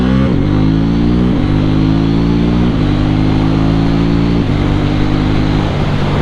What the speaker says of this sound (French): On va essayer une petite accélération aussi là.